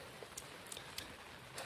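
Rain falling outdoors, a faint steady patter with a few sharper scattered drips landing on a nearby surface, heard alone at low level.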